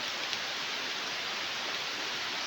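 Heavy rain pours steadily over a forest, a dense unbroken hiss that fills the whole stretch evenly, with no voices.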